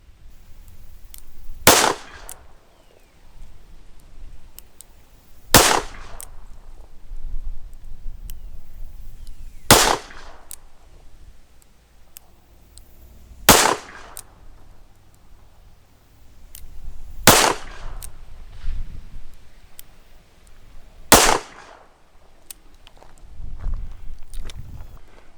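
Six sharp 9mm pistol shots firing Geco Red Zone self-defense ammunition, evenly spaced about four seconds apart, each a loud crack standing out over low outdoor background noise.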